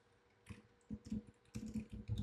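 Keys clatter in short irregular bursts on a computer keyboard, several quick strokes close by, with no talk.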